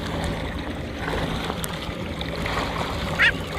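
A jet ski rides through choppy waves with a continuous rushing roar of engine and water, close and loud, with a brief sharper splash near the end.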